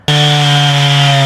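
A chainsaw cutting up a fallen tree that has landed on a fence, starting suddenly into a very loud, steady high-revving buzz with a strong engine drone, close by and uninterrupted.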